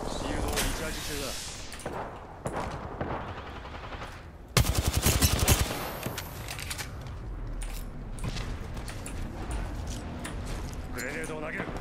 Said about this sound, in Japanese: 他の部隊から攻撃されてる。 撃っている。